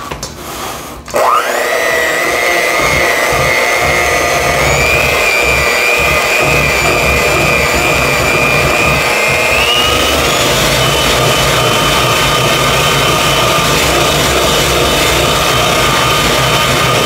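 Electric mixer whirring loudly and steadily as it beats cream cheese with vanilla extract, starting abruptly and running continuously with a slight rise in pitch partway through, no talk over it.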